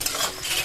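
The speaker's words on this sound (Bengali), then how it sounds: "এবার রসুন বাটা দিয়ে দেবো।" Garlic paste is stirred into browned onions frying in hot oil, giving a brief close hiss and sizzle with a scrape of the spoon, heard alone without voices.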